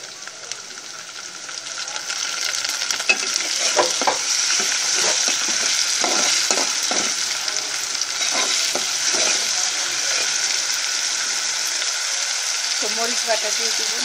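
Garlic paste dropped into hot oil in a wok, already holding fried paste, sizzles loudly and steadily for the whole stretch, with stirring scrapes and spatula knocks close by and a brief voice near the end.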